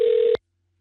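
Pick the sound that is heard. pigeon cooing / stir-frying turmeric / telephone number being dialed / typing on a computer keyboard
telephone number being dialed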